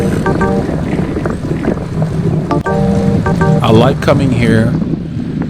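Strong wind buffets the microphone during a group cycling ride, a steady loud roar throughout, with someone talking over it.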